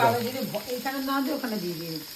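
Cumin seeds and dry spices sizzle in hot oil for tempering, with a steady close crackle and hiss running throughout, while a voice murmurs faintly underneath.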